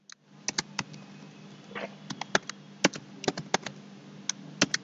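Typing VHDL code on a computer keyboard: a steady run of sharp, close key clicks in uneven bursts over a low electrical hum, with no talking.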